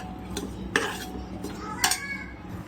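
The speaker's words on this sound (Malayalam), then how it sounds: "നമുക്കിതൊന്ന് ഇളക്കി കൊടുക്കാം" Chopped vegetables, including potato, being stirred in a pan for veg pulao: soft scraping with two distinct clinks of a utensil against the metal, close and moderately quiet.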